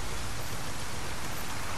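Steady rain in the Resident Evil 4 Remake, a dense, even hiss of falling water filling the short stretch without a break, with no voices over it.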